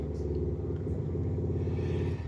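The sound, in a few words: motorbike engine in the background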